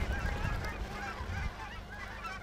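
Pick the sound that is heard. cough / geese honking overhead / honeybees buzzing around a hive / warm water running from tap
geese honking overhead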